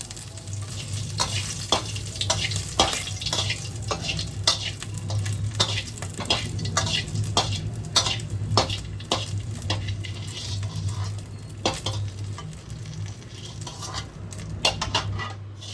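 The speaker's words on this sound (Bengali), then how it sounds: "ওই তেলেই আমি কিছু শুকনো লঙ্কা ভেজে নিচ্ছি।" Dried red chillies fry in the oil left from frying hilsa fish, giving a continuous sizzle punctuated by repeated sharp metallic clinks and scrapes of a spatula against the pan, close and fairly loud.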